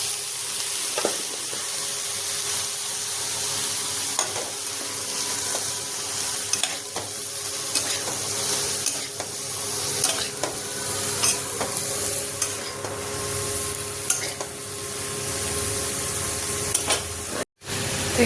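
Chopped cabbage stir-fries in a pan with well-cooked spices, producing a continuous close sizzle and frequent scraping, clinking stirs against the pan that keep up steadily for a long stretch, with a brief cutoff near the end and no talking.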